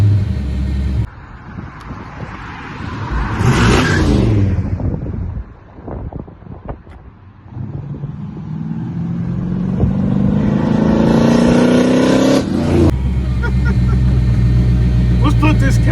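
Supercharged 1955 Chevy with a Vortech V3 blower revving hard during a burnout, engine pitch climbing and holding over heavy wind buffeting, with a sharp cut near the end and faint voices in the background.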